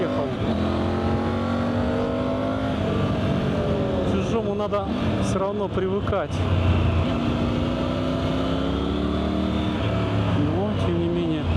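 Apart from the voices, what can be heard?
Triumph Tiger 900 GT three-cylinder motorcycle engine running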